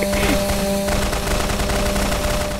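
Tank gunfire in the Garry's Mod sandbox game, a dense continuous burst of rapid automatic shots with a steady tonal hum underneath, loud and close throughout.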